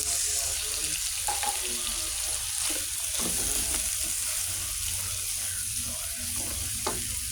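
Black beans sizzle steadily in a hot pan, a continuous close frying hiss with occasional scrapes and stirring knocks, no talking.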